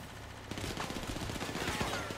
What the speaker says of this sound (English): Shooting is happening.